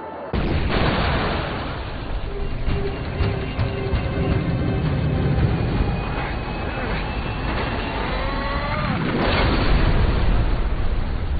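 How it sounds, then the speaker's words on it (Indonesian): A plane crashes and explodes: a loud, sustained explosive roar with crackling bursts and a deep rumble, building again toward the end. "Lalu setelah itu pesawat pun jatuh dan meledak."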